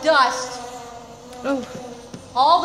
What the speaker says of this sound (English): he will send gnats on you